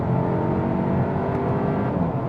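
A 2025 Hyundai Elantra N-Line turbocharged engine pulls hard in third gear, a loud, steady, continuous drone of engine and road noise with no talking.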